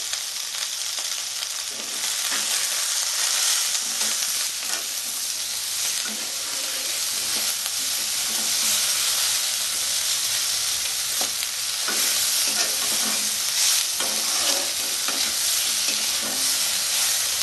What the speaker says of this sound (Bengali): আমার ভেন্ডি আর পেঁয়াজটা মোটামুটি ভাজা হয়ে গেছে